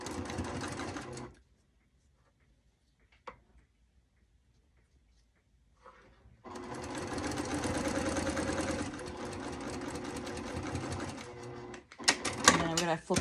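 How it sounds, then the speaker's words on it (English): A home sewing machine runs steadily while stitching quilt pieces for a square-in-a-square block, first in a short burst, then after a quiet pause in a longer continuous whir lasting several seconds with a brief stop near the end. "I'm going to sew right down this"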